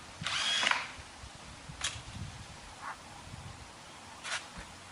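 Power drill backing bolts out of a cement garden box mold, a loud whining burst at the start followed by several shorter, quieter drill bursts spread through, with faint knocks between.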